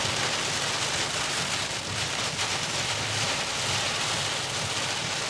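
Heavy rain pours steadily during a storm with tornado risk in Indiana, a dense unbroken hiss that stays loud and close throughout, with no voices.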